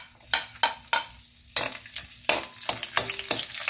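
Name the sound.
frying and stirring garlic with pork and chicken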